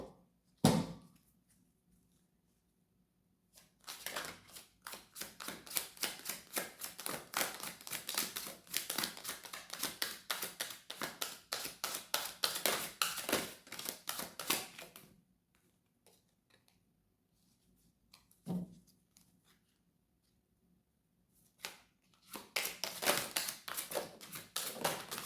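Tarot cards being shuffled in long bursts of dense, rapid riffling clicks, a sustained run of roughly ten seconds and another near the end, separated by quiet pauses and a single soft thump.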